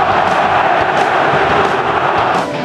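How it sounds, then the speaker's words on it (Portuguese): A large crowd of Cruzeiro supporters roars inside the Mineirão stadium, a dense, steady wall of cheering and shouting that holds loud and unbroken for the whole moment before easing slightly at the end. "Para delírio do torcedor cruzeirense no Mineirão e em todo o Brasil."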